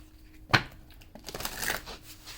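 An oracle card deck called Believe in Your Own Magic is shuffled by hand: one sharp papery snap, then a brief soft riffling, close and quiet, with no voice.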